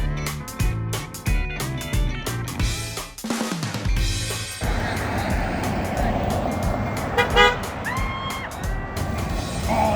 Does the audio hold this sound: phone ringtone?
no